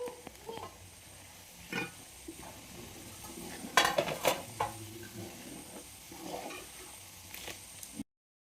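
Chili and turmeric powder being stirred into pickle in a pan, with sporadic scraping and clinks of a spoon against metal, a brief cluster of louder scrapes midway over quiet background.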